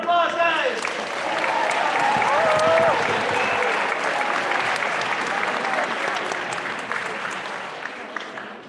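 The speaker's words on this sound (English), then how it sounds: "One more round of applause, guys." Audience at a school winter festival giving a round of applause: loud, dense clapping from a full room that swells quickly and slowly tapers off, with a voice speaking over it briefly at the start.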